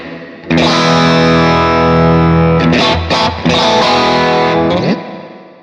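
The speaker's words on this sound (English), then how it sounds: "we've got a vintage spring based around the deluxe spring reverb type" An electric guitar through a Fractal vintage spring reverb modelled on a deluxe spring reverb type, loud sustained chords with a springy, boingy wash and distortion, a brief choppy strum midway, ringing out alone before the decaying tail.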